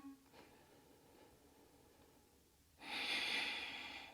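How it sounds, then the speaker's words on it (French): A deep breath during a beginner yoga flow, held in the plank pose: a quiet stretch, then a loud, airy exhale that swells suddenly near the end and carries on steadily, close and alone with no talk. "Encore une grande respiration."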